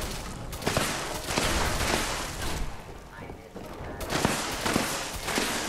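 Another player's gunfire in the video game Fallout 76, bursts of shots and rumbling impacts at moderate loudness, with a quieter lull midway before the firing picks up again.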